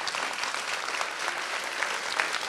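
Applause fills the room as a crowd welcomes Kostas Agorastos at his election centre in Larissa. Dense clapping is heard close up and continues throughout.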